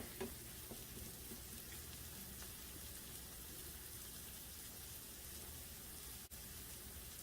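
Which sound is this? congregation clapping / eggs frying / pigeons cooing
eggs frying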